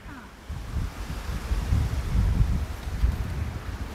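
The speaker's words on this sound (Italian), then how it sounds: "e l'acqua scende sotto." Water draining down through the grate of a camper service area drain in Puglia, a continuous rushing splash with low rumble, fairly close and steady after a quieter start.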